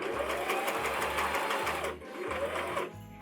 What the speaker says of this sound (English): holding that loop with this hand whilst I sew over it